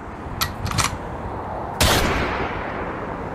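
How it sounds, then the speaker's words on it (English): Gunfire from a firing-squad sound effect: a few faint sharp cracks early on, then one loud close blast that rings out and decays over steady background hiss, with no voices. "That's a firing squad right there."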